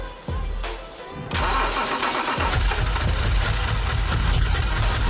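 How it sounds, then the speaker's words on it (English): A car engine cranks briefly, catches and starts, then settles into a steady, loud idle with a low rumbling throb close by. "Difficulty starting the engine."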